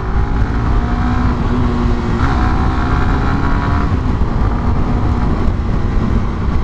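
A Suzuki GSX-R150 motorcycle engine pulls hard on a test ride, a steady loud drone with rising pitch under rushing wind noise.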